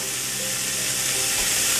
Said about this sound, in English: I think my skillet's warmed up. I'm going to put in some chorizo.